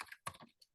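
Typing on a computer keyboard while searching business software, a short burst of close, quiet key clicks in two quick clusters with brief gaps.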